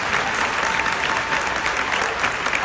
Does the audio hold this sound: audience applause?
yes